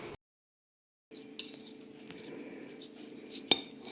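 Cutlery cutting into a steak and kidney rag pudding on a plate: a pause of silence, then soft scraping and a few light metallic clinks, with one sharper clink near the end, close and fairly quiet.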